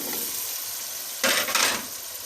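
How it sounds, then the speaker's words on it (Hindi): Potatoes drop into hot spiced masala in a pan, setting off a sudden loud sizzle with scraping stirring, two bursts rising over a steady background frying hiss. "अब हम इसमें आलू डालेंगे"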